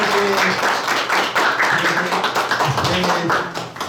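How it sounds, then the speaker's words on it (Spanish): Audience clapping at a live podcast recording, a dense burst of applause close by with a voice speaking over it. "Así que este último aplauso es para ustedes,"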